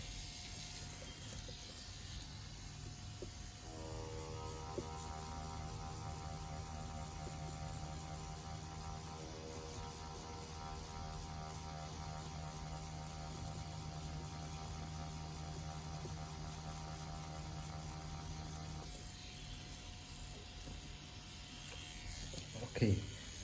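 CNC Q5 tattoo machine shading on practice skin, a steady electric buzzing hum that starts a few seconds in, runs for about fifteen seconds, then stops, heard close and fairly quiet over faint room hiss.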